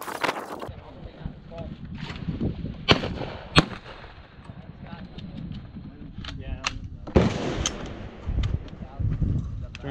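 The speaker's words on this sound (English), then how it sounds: "That was the first shot out of this gun." A Benelli Nova pump shotgun fires its first shot outdoors: one sharp, loud blast stands out among several impulsive bangs over a steady background, with voices talking in between.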